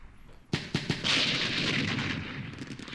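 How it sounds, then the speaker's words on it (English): An artillery strike lands in a Second Arab-Israeli War strategy game: a sudden loud boom and a few quick follow-up blasts, then a rolling, rumbling roar that lingers. "Artillery strike's on the way"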